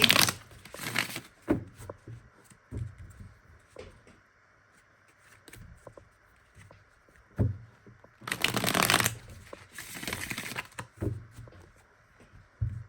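A tarot deck is shuffled in several bursts of riffling and bridging cards, loud and close, broken by quiet pauses and soft handling taps between shuffles.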